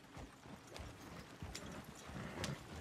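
Horse hooves clip-clop in Red Dead Redemption 2 as a mount walks along, with steady, evenly spaced beats at moderate distance over a soft outdoor ambience.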